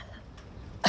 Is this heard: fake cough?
yes